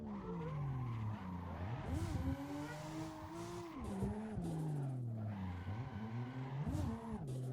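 A GT3 Porsche races in the Assetto Corsa sim: the engine rises and falls through repeated gear changes and revs, with tire squeal during cornering, loud and continuous.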